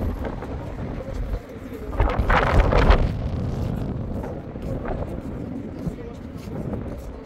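Wind in Lisbon, Portugal buffets the microphone with a low, rumbling roar that surges louder for a moment, while a voice speaks faintly underneath.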